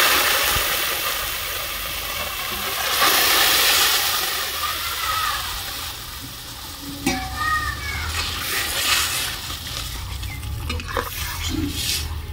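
Dried red chillies, bay leaves and radhuni seeds fry in hot oil as a tempering for dal shukto, a loud continuous sizzle with spoon scrapes and clatters against the pan over a low hum.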